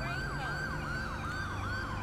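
A police car siren in GTA 5 wails in a repeating rising-and-falling yelp pattern, steady and fairly close, over a low engine rumble during a pursuit through Chicago-style streets.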